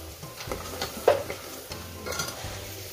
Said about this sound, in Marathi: हा मीडियम फ्राय करून घ्यायचा कांदा आपल्याला